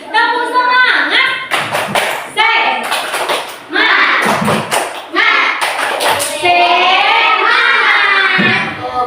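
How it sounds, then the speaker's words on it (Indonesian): Classroom group doing a tepuk semangat cheer, bursts of loud rhythmic hand clapping alternating with children and a teacher chanting and shouting in unison, close and energetic. "Nah, kita tepuk semangat dulu lah sebelum kita akhiri."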